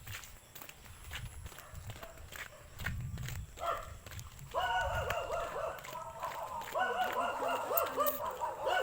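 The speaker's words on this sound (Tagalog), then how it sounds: "Ayun po, nagkakahulan na po yung mga aso." Dogs at a rural farmhouse in the Philippines bark repeatedly in the distance, growing busier toward the end, over footsteps and outdoor background noise.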